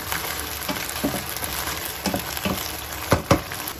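Sardines with misua sautéing in a pan and being stirred: a steady, close sizzle with soft scraping and occasional clinks from the utensil against the pan.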